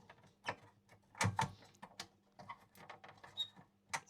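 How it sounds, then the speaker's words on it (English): A circuit board being pushed back into a Technics SL-PS700 CD player, giving close, quiet plastic creaks, clicks and scraping rattles in irregular bursts, with no speech. "Just push the board back in."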